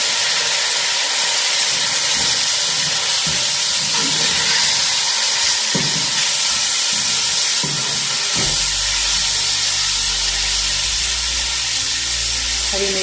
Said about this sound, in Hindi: अब हम इसमें टमाटर ऐड कर देंगे।